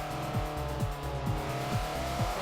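Race car in the Forza Motorsport 4 video game kicking out as a drift begins: a steady engine drone with a rhythmic, pulsing tire scrub and a rising whine, close and moderately loud.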